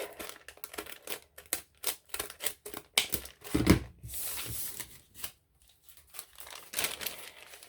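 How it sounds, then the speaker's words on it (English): Scissors cutting the end off a bag, a run of quick crisp snips and crinkling rustles, close and fairly quiet, with a louder crumpling burst partway through. "Then I simply cut the end off"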